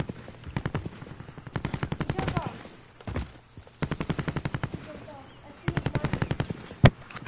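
Uzi fire in a video game crackles out in repeated rapid bursts, one short stutter after another with gaps between, sharp and fairly close.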